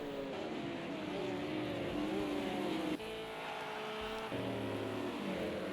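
A race car engine in Project CARS 2 drones at high revs during a FIA GT Championship '98 race at the Nürburgring GP, the pitch sliding down and then dropping sharply twice, with no talk over it.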